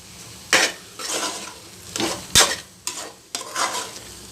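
Broccoli egg bhurji is stirred in a frying pan over a medium flame: about six rhythmic scraping strokes rise above a soft, continuous sizzle, with no talking.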